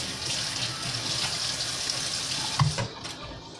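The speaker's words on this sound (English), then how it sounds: "I always like to rinse the can out." Faucet water runs steadily into a tuna can to rinse it out, a constant close hiss and splash with a brief clunk near the end, then it tapers off.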